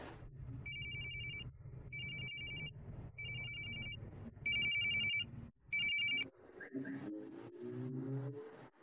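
A phone rings in five repeated electronic bursts with pauses between them, then stops, leaving low background noise and a faint engine.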